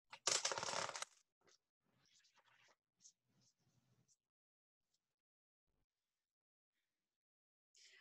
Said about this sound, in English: I'll shuffle 3 times